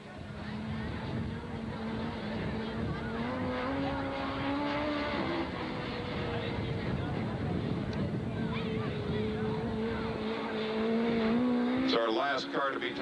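Race car driving at Southern Oregon Speedway during time trials, a sustained engine drone with rising and falling pitch as the car laps, growing louder near the end, with an announcer talking over it.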